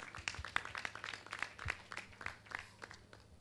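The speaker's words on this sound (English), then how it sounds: "Please put your hands together for him" An audience at a construction artisans awards event in Abuja claps for the British Council director, scattered claps forming modest, fairly faint applause.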